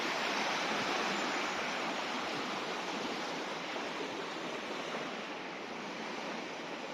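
The Loire river flows beneath a small bridge, a steady broadband rush of moving water, even and continuous without breaks or voices.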